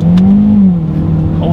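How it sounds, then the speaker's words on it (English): A 2019 Hyundai Elantra Sport's turbocharged four-cylinder engine accelerating hard, a loud, close in-cabin drone that climbs in pitch and then eases slightly, heard continuously for over a second. "let's see how quickly we can get this turbocharged four-cylinder here up to speed"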